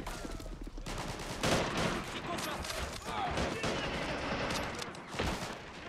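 Rattling machine gun fire and scattered battlefield gunshots from the WWII strategy game Men of War: Assault Squad, a dense continuous barrage with intermittent louder bursts, heard under players talking.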